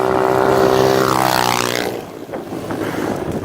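A 125cc pit bike engine revs hard in a loud buzzing wail that climbs, then drops away as the rider backs off, leaving quieter idle rumble.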